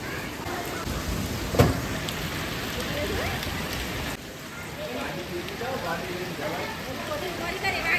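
Heavy rain pouring down in a dense, steady roar, with a sharp knock partway through and faint voices in the background.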